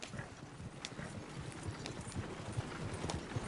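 Horse hooves in a PS4 video game, clip-clopping in a steady trotting rhythm, fairly close, over low rumbling background noise.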